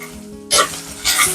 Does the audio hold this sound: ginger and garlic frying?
yes